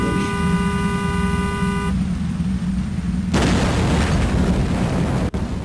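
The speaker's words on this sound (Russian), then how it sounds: "Ну, взрыв был неплох." A car blows up in the Saints Row Undercover video game: a sustained horn tone gives way to a low rumble, then a sudden loud noisy explosion burst followed by a crackling tail.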